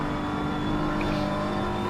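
BMW GT3 race car in Assetto Corsa Competizione at Bathurst, heard on board as a steady, sustained engine drone at high revs, loud and continuous throughout with no talk.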